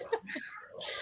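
A single short sneeze, close and sharp, preceded by a quick breath.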